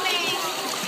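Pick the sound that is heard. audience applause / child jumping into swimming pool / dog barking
child jumping into swimming pool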